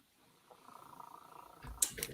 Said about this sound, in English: Are you purring, Lopez?